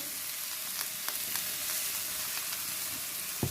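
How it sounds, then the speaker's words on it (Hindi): Chicken and vegetables stir-fried in a pan, a soft continuous sizzle with occasional light clinks and scrapes as everything is mixed, close but fairly quiet, no voices. "सारी सब्जियों को हमने यहाँ मिक्स करना है"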